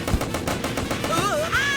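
Gunfire in a minigame from the video game Incredible Crisis: quick rattling bursts of automatic fire over a busy game soundtrack, with warbling whistle-like effect tones toward the end.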